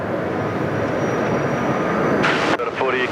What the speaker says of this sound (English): But look at this takeoff roll.